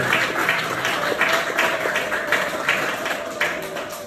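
An audience at a student thank-you speech claps steadily in a sustained, even wash of hands that stays close and fairly loud.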